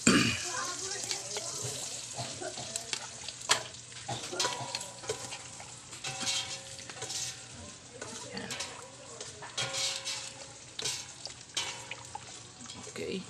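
A spoon stirring balbacoa stew in a pot, with scraping and soft bubbling over a low simmer, broken by scattered clinks and quiet voices in the room.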